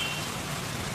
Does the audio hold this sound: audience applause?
no